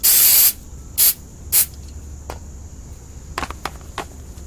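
Electronic cleaner spray hisses from an aerosol can while cleaning a Saturn SC2 throttle body, one long loud burst followed by two short puffs and a few faint quick spurts, close up and without talk.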